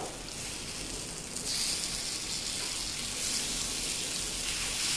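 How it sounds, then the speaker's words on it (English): Yam pieces fry in a pan with a steady, loud broadband sizzle that swells slightly a couple of times and never lets up. "Fry till dry on both sides."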